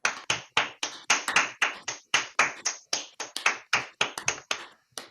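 Clapping from participants unmuted on a video call after a mathematics talk, a sparse, uneven patter of individual sharp claps from a few people, close and clipped, with no talk over it.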